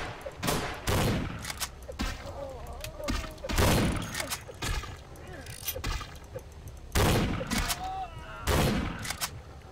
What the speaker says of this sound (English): Man, those shotguns are annoying.